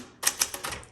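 Close, crisp keystrokes on a 1967 Super Sterling manual typewriter in great condition, a quick irregular run of sharp clacks with mechanical rattle between strikes and no talking.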